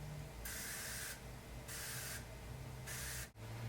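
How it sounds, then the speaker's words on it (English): Three sharp bursts of dry brush cleanser spray hiss from a pump bottle onto a makeup brush, close up, each lasting about a second with short quiet gaps between them. "I'm just going to go ahead and spray my brush 2 to 3 times"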